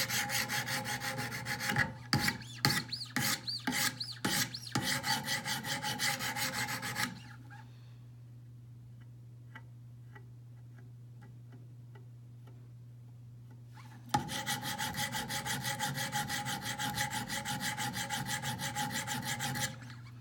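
A Hinderer knife blade scraped along Wicked Edge 200 grit sharpening stones in repeated raspy rubbing strokes, close and steady, with a quiet pause in the middle before the strokes resume, no voices.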